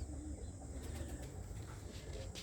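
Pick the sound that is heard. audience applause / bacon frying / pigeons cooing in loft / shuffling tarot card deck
pigeons cooing in loft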